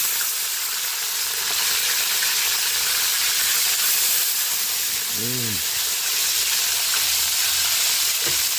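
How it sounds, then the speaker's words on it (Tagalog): Fish frying in a pan for a home-cooked Filipino meal, a steady broadband sizzle and crackle running throughout, with a brief low tonal sound near the end. "Check natin yung ating pritong isda."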